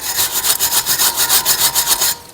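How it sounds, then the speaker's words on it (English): Stiff brush scrubbing rust off the brake hub of a 2017 Mercedes E220, loud rhythmic back-and-forth strokes at a steady fast pace, close and continuous for a couple of seconds with no voices. "I'm going to just brush this off a little bit, all the rust and everything on it"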